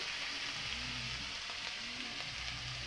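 Spices including turmeric, cumin and coriander powder sizzle and fry in hot oil, a steady crackling hiss close by, with faint stirring and no talking.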